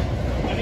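An NJ Transit EMD GP40FH2 diesel locomotive runs the Hoboken to Middletown train in northern New Jersey, a brief, loud, dense rumble and roar close by, with a voice heard over it.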